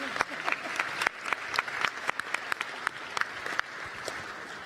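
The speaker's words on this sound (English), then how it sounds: "a big round of applause, please, to our panels" An audience at a plenary session applauds the panel, a busy patter of many hands clapping close and fairly loud, with sharper individual claps standing out before the applause thins near the end.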